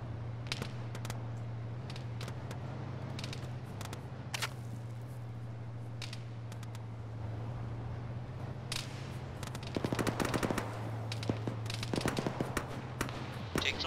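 Gunfire in a military video game, with sporadic sharp single shots and short bursts over a steady low hum, growing busier toward the end while remaining fairly faint overall.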